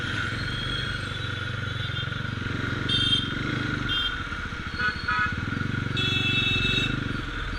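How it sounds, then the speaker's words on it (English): Motorbike engines hum and rumble steadily while riding through city traffic in Bangalore, with a Ducati 899 among them; the drone stays constant and fairly loud, with passing vehicle swells and faint voices underneath. "Looking at my own bike and listening to it, it feels a little weird"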